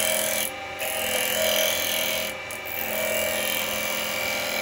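A 15mm carbide tool cuts a foot into the bottom of a rough-turned yew bowl on a wood lathe, giving a steady, close scraping rasp that dips briefly a couple of times.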